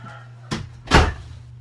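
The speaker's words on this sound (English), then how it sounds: "let me close this door" A door is pushed shut: a light knock, then a louder thud as it closes, over a low steady hum.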